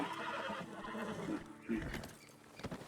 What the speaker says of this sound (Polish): Oj, znowu Artur się przewrócił na swoim koniku.